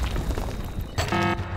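A grenade goes off in the online shooter Blackshot: a short, loud burst of broadband blast noise followed by a ringing, tonal crash tail, close up and alone.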